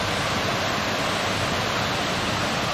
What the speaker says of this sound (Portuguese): E essa aqui é a cachoeira do Jajá